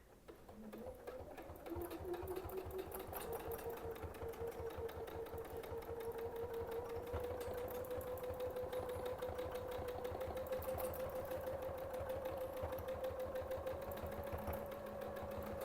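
Sewing machine stitching steadily while machine quilting, a rapid even mechanical whir with a rising pitch as it speeds up after a brief start, close and continuous throughout with no talk.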